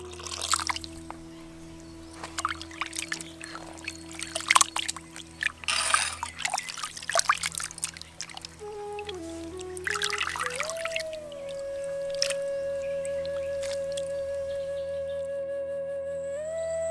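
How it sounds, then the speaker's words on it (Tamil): Cut goat meat pieces being rinsed with water for mutton chukka, a steady trickle and splash of poured water with scattered bursts, under a persistent low hum and faint background tones, no talk. "இப்படி வெட்டி எடுத்த வெள்ளாட்டுக்கறியை தண்ணி ஊற்றி சுத்தமா கழுவி எடுத்துக்கலாம்"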